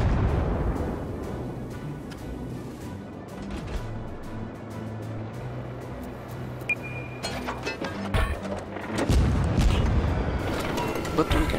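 Low-tier Japanese destroyer guns firing in the naval combat game World of Warships, heard as a series of booming shots and blasts repeating through a busy battle soundscape, loud and dense near the end.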